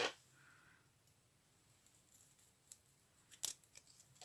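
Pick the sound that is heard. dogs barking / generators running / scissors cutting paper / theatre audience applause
scissors cutting paper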